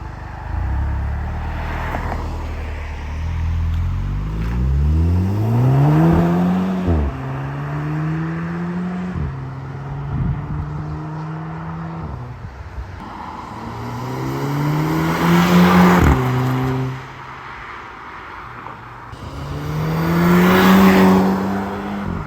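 Mk5 Golf GTI with a 2.75-inch non-resonated Miltech catback exhaust revving hard: three rising pulls roughly a minute apart, each climbing in pitch and then dropping back to a deep idle, loud and close with no talk.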